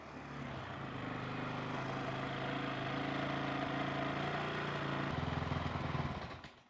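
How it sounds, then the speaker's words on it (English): A dirt bike engine idles steadily during a coolant flush, a close, continuous buzzing drone that holds even for several seconds before cutting off at the end. "run the bike one more time, and we're just gonna run it for about a minute this time"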